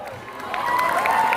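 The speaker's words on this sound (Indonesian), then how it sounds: "Oke, boleh kita berikan tepuk tangan." Applause and cheering from a school audience at a student orientation event, a dense crowd clapping that swells and holds steady, with faint voices mixed in.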